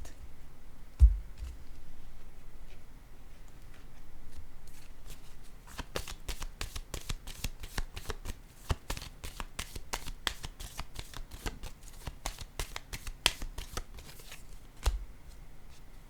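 Tarot cards are shuffled by hand in a quiet room: a soft riffle, a brief pause, then a long run of rapid crisp card flicks ending in a single tap.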